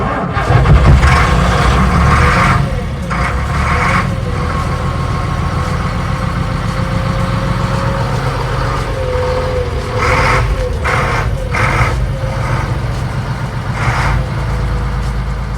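A Routemaster bus, RM467, runs its engine loudly and steadily as it manoeuvres, a deep idling diesel rumble with a brief surge near the start and faint beeps and clanks scattered throughout.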